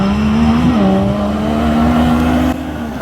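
Yamaha YXZ and Polaris RZR 1000 XP side-by-side UTVs racing in a county fair final, engines droning loudly and steadily at high revs, close by, with a brief pitch shift partway through.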